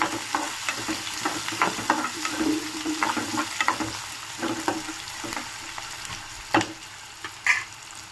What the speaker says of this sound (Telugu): అండ్ ఎండుమిర్చి వేశాను కొంచెం వేగాలి పచ్చాతన పోవాలి